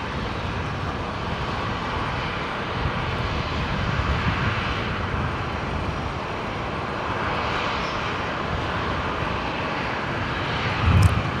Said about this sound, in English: the Alliance Fokker 70 going to 19 rights for its departure